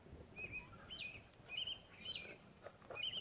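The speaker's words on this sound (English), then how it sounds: "The birds are out and beautiful." Birds calling in a zone 4 garden at dusk: repeated short, high chirps and whistled notes at moderate distance, spaced about half a second apart over a soft, quiet background.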